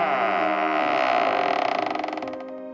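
A door creaks slowly open, one long, close, groaning creak that turns into a rapid ratcheting stutter near the end, with no voices.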